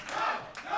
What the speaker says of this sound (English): This crowd trying to rally Cameron Pierce